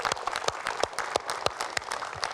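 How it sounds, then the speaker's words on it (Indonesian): Studio audience applauding on cue during a talk show, a crowd of hands clapping with several sharper individual claps standing out, fairly close and steady throughout. "Boleh dong tepuk tangan."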